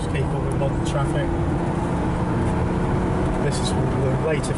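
A 1986 Mercedes 300 SL with the later 4-speed automatic transmission drives along, its engine a steady loud hum with road and wind noise as it changes up smoothly.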